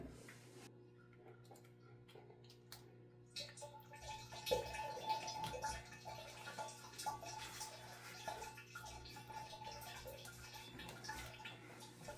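Motor oil draining from the oil pan of a 2008 Lexus IS F, a faint trickling and pattering stream that begins a few seconds in under a low steady hum and continues quietly to the end.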